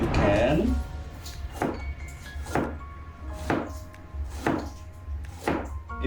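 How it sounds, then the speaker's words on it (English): A knife thinly slices cabbage on a cutting board in five evenly spaced crisp chops, heard clearly under a person talking. "You try to slice this as thinly as you can."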